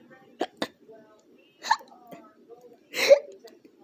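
A cartoon character's hiccups come as short, sharp voiced gulps, a quick pair first and then a few more spaced apart, close and fairly loud against quiet.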